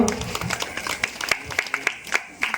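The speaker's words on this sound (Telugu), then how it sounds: "చప్పట్లు కొట్టండి పిల్లలందరూ" A group of children at a Christmas church gathering in Katur, Krishna district, clap in a fairly even rhythm of sharp, close claps, with some talking mixed in.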